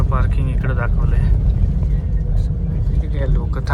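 A car's low engine rumble fills the parking area of a resort near Pune, steady and close beneath continuous conversation.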